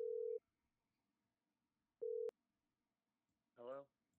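Telephone call ringing through on the line, two long ring tones about two seconds apart, clear and steady, followed by a brief voice-like sound at the end.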